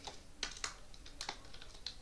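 Python code being typed on a computer keyboard, a quiet, close run of irregular key clicks with a few sharper taps.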